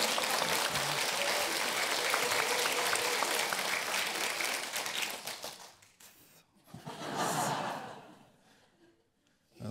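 A church congregation applauding during a Sunday evening sermon at a Korean church: loud, dense clapping that thins and fades out, followed by a short second swell before dying away.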